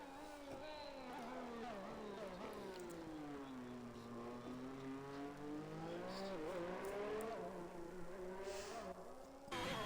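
A Ferrari race car on track in a racing game, its engine note swooping up and down through gear changes and corners, loud and continuous for the whole stretch.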